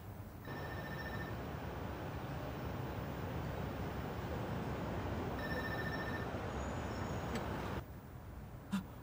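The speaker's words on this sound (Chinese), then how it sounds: "接电话" A telephone rings in two bursts of a steady electronic trill, separated by a pause, over a constant low background hum; no one talks.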